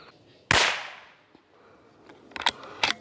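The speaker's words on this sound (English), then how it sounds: "first here we go with the 22 LR" A single sharp .22 LR rifle shot cracks close by over a chronograph, decaying quickly, followed by a few faint clicks and taps.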